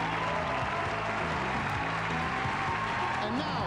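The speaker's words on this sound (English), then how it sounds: "okay, now you can clap." A live pageant audience at Miss Universe 2000 gives sustained, dense applause throughout, loud and even, with faint voices mixed into the clapping.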